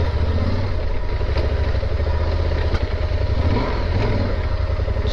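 A motorcycle engine runs loud and close while riding over rocky terrain, a continuous rough drone with occasional knocks and clatter from the bumpy ground.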